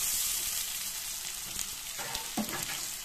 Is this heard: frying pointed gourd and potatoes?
yes